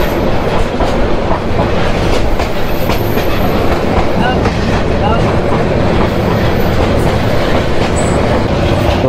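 The Teesta Express intercity train rolls on near Jamalpur Town junction, heard loud and close from the open doorway as a steady rumble with rhythmic wheel clatter and occasional faint squeals.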